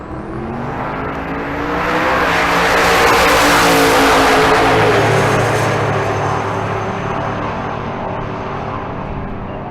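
Drag race cars launch side by side at Bandimere Speedway, a loud roaring engine blast that swells to a peak and then fades as the cars pull away down the track.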